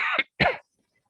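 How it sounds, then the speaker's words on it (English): Two short, close coughs in quick succession, then silence. "Sorry, I'm still coughing a bit."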